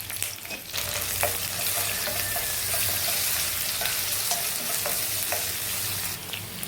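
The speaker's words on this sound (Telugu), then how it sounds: "ఆవాలు, జీలకర్ర, ఉల్లిపాయలు వేగేవండి." Mustard seeds, cumin and onions fry in hot oil in a pan, a continuous close sizzle with scattered light pops and stirring scrapes, steady throughout and free of speech.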